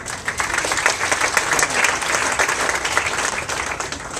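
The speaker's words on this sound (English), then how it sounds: "I think we need a round of applause for Trent." A classroom audience applauds, a steady, fairly loud burst of many hands clapping together that holds for several seconds with little else beneath it.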